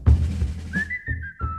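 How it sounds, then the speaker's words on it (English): A short sampled loop of lip whistling rises into a long steady held tone, then two brief repeats of the same note follow over a low droning backing layer in a spooky music mix. "Oh, the lips whistle."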